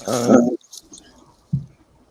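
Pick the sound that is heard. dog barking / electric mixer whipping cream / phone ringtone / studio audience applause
dog barking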